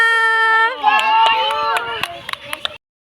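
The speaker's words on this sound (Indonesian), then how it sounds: "Oke, tepuk tangan untuk kita semua." Children clapping their hands together in a preschool classroom: a few quick, sharp claps near the end after a sustained sung or shouted group voice, then silence.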